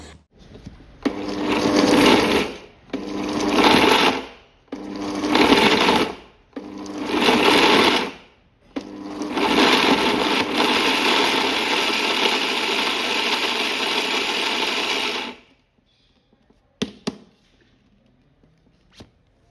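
A kitchen mixer grinder crushes leftover jowar bhakri into fine crumbs, running in four short, loud pulses and then one long steady whir before cutting off, followed by a few faint clicks.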